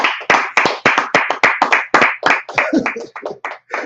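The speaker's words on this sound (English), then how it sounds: "Hey, clap it up, y'all." A group of people claps along in a steady, rhythmic beat at a lively gathering, the sharp hand claps loud and close, landing roughly every quarter second for about four seconds.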